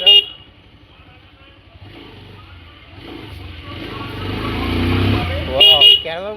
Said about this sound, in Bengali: ঢুকিয়ে দিলাম বাইকটা।